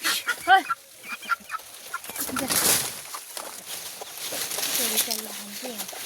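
Hens and chicks in a maize field, clucking and cheeping in short scattered bursts close by, while a person talks in between.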